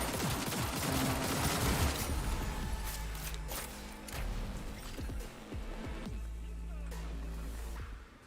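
Gunfire in Cyberpunk 2077, loud repeated shots and blasts layered with game noise and thumps, with a voice talking over part of it.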